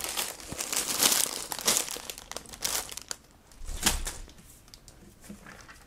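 LEGO set paper wrappers crumpled and crinkled up close, in busy bursts of rustling with short pauses, no talking.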